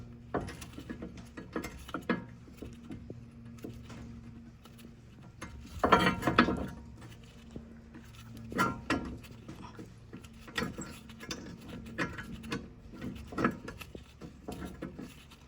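Close by, a ratchet wrench clicks in repeated bursts of rapid pawl ticks while backing out the brake bracket bolts on an NA Miata, with a louder metallic clatter around the middle and quiet pauses between strokes.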